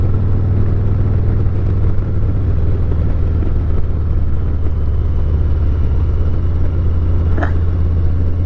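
Motorcycle ridden along a winding road in the Blue Ridge Mountains, heard as a steady, loud, low engine drone mixed with wind rumble that holds constant throughout, with no talking.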